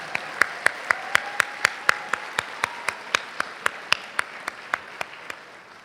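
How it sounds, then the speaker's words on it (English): A small audience at a teacher honors ceremony gives a round of applause, heard as a sparse, rhythmic series of sharp individual claps, roughly four per second, steady and fairly close. "Let's give all of our honorees another round of applause"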